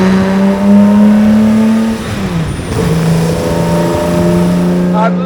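A classic racing car engine, part of a collection worth £30,000,000, revs hard under acceleration and is held to about 4,500 RPM. A loud, sustained roar rises and falls in pitch, dips briefly around the middle, then climbs again.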